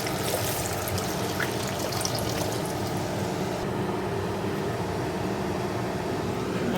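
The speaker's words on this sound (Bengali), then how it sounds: "জল দিয়ে দেবো।" Water poured into ground mustard paste in a kitchen, a steady close trickle and splash running for several seconds without talking.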